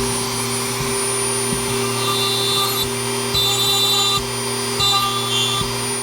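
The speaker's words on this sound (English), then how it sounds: "Alright, so I got my hole drilled." Steady whine of a power drill boring a hole into rock, a constant motor drone with faint rhythmic ticks and slight shifts in load as the bit grinds in, close and loud with no talking.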